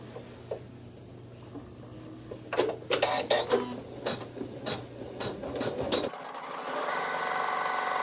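A sewing machine stitches a tack into fabric in a few short, close, whirring bursts of needle clatter, followed by a steadier mechanical hum.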